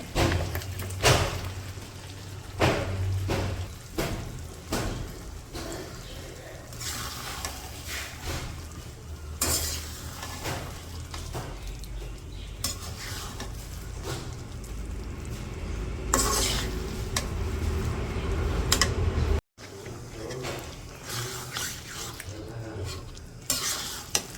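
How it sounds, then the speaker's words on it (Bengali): Beef tripe is stir-fried with spices in a pot in a Bangladeshi village kitchen, steady sizzling under frequent scraping and clattering strokes of a spoon against the pot, close by, with a short silent break near the end. "বটগুলো এখন ভালো করে কষায় নিই।"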